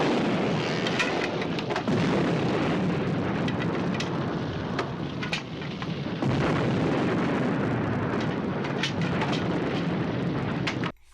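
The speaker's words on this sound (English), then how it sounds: "Oh, the car's exploding." A car blows up in an action movie: a long, loud rumbling blast, debris and fire crackling on without pause for about eleven seconds before it cuts off suddenly.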